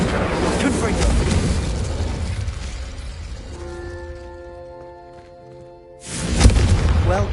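A fiery Confringo spell in a wizarding video game bursts with a loud, booming explosion and crackling rumble, followed by a fading magical shimmer and a second blast, with a voice speaking over parts of it.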